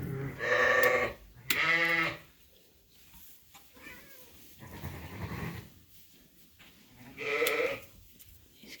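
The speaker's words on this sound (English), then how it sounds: "So this is the last ewe getting trimmed. She's been dewormed. Her lambs are just watching on." Sheep and lambs bleating in a farm pen while a ewe is being trimmed, with several loud, close, wavering bleats in separate bursts and quieter animal shuffling and low voices between them.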